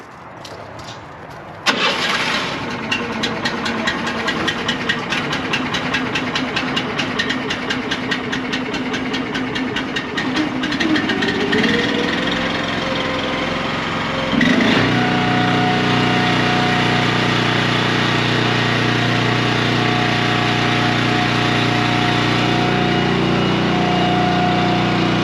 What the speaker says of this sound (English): I'll fire up this motor